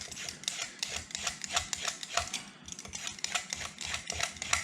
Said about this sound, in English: Next item I'm going to work with, carrot. I'm going to do a real quick peel.